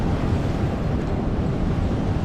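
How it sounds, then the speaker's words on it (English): Rough, choppy sea breaks against a rocky shore, a loud, constant roar of surf churning with wind buffeting the microphone, close and unbroken with no voices. "looking at the water, guys, it's rough, it's choppy, the waves are quite high"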